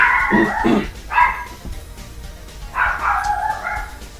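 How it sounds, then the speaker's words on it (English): A dog barks in a few loud, close bursts, two quick barks, another shortly after, then a longer yipping run near the end, with no one talking. "you can listen to the dog bark for a second"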